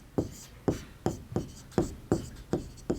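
Pen strokes on paper while drawing a solution figure by hand for a Class 10 surface area and volume maths problem: about eight short, close scratchy strokes in a steady rhythm, with no talking.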